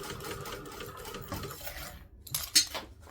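Sewing machine stitching through a bag, a steady rapid mechanical whir with clacking, close and fairly quiet, stopping briefly before a few handling clinks and rustles as the bag is moved.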